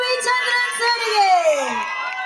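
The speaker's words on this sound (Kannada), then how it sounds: "ಒಂದು ದೊಡ್ಡ ಚಪ್ಪಾಳೆ ಬರಬೇಕು ನಮ್ಮೆಲ್ಲರ ಪ್ರೀತಿಯ ಕ್ರೇಜಿ ಸ್ಟಾರ್ ವಿ ರವಿಚಂದ್ರನ್ ಸರ್ಗೆ" A concert crowd rises to cheer Crazy Star V. Ravichandran in a standing ovation. Loud whoops and sustained shouting voices swell together, with clapping hard to pick out under the cheering.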